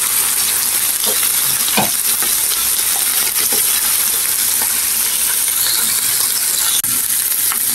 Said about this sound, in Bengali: আমি আরেকটু ভালো করে ভেজে নিব